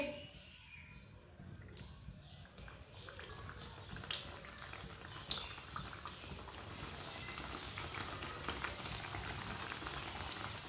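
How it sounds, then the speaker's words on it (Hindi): Samosas drop into well-heated oil and fry, a fine, continuous crackling and bubbling hiss that swells after a quiet start and keeps up evenly at a soft, close level with no talking. "ऑयल हमारा अच्छी तरह गर्म हो चुका है। अब समोसे डाल लेंगे।"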